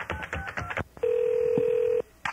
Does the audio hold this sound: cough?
no